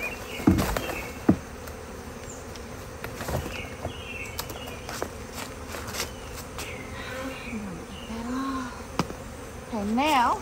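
Honeybees buzzing at a hive opening as a queen is installed, with a steady outdoor hum and individual bees droning close past, while occasional handling knocks sound under the swarm.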